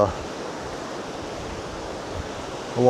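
The Clearwater River rushes past just downstream of the Split Creek Trail Bridge, a steady broad wash of flowing water that stays constant, with brief voices at the start and end.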